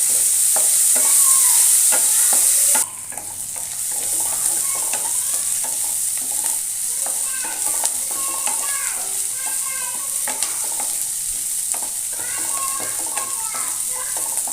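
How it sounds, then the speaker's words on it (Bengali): Chopped onions frying with cumin seeds, dried red chilies and bay leaves in a pan for a coconut milk chicken dish, a steady close sizzle with scraping stir clicks throughout, a higher hiss dropping away after the first few seconds. "দিয়ে দিলাম মিডিয়াম সাইজের 2টো পেঁয়াজ কুচি। এটাকে ভালোভাবে ফ্রাই করব"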